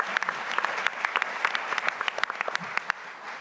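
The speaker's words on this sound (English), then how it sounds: "let's give her a big round of applause" An audience at a business ideas event applauds, a brief spatter of distinct, fairly close hand claps that stays moderately quiet.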